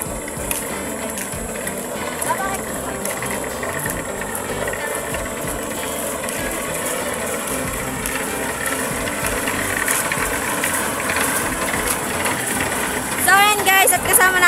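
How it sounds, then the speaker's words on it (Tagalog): A concrete mixer pouring cement for a road under construction runs with a steady mechanical rumble and rattling, clanking machinery throughout, loud and close, with a brief squealing chirp near the end. "May mixer pala silang ginagamit para pambuhos dito sa ginagawang simentong daan."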